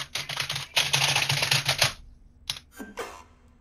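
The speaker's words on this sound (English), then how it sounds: "What are you clicking? My keyboard." Computer keyboard keys clatter in fast, dense bursts of clicking, then stop, followed by a few sparse isolated clicks, close and loud with no voices.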